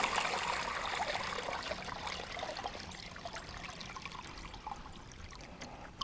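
Leftover water is poured into a pig's water pan, a close, fairly quiet splashing trickle that fades gradually over several seconds.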